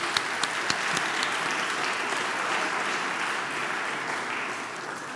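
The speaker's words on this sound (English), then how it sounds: "Give yourself a round of applause." A live audience at an Epic Games and Unreal Engine event breaks into a dense, steady round of applause that holds at an even level for several seconds, with a few sharper claps near the start.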